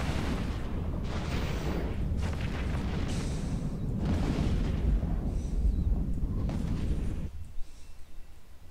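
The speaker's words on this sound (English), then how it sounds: "Yay, big explosion!" Big explosion in the EVE Online space game during a mass test, a loud sustained roaring blast that rumbles for about seven seconds before cutting off, leaving quieter crackles.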